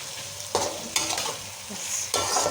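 Okra masala fries in a pan as it is stirred, a steady sizzle broken by a few sharp scraping stirs, close and fairly loud with no speech.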